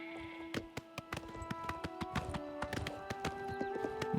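Horse hooves in the video game Oblivion Remastered, a rapid run of sharp clip-clop strikes at a steady trotting rhythm, fairly faint and alone, with a ringing musical tone underneath.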